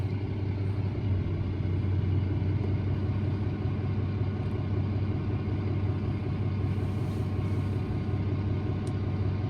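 A tractor towing an 8-metre Ukrainian cultivator runs with a steady, low engine rumble and drone that stays even throughout, heard from inside with no talking.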